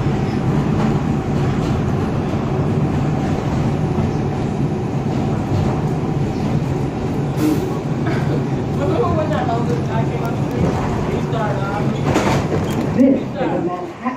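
An R142 subway car on a Manhattan-bound 2 train in the Bronx rumbles steadily the whole time, with a loud, continuous roar of wheels and motors that swells briefly near the end and a faint voice under the noise.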